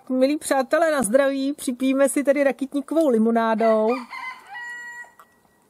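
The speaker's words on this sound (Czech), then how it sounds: "Banda kohoutku nám tady do toho zpívá." Roosters crow in the background of a farmyard where sea buckthorn is being harvested, their calls blending with close, steady Czech speech that fills most of the stretch before trailing off.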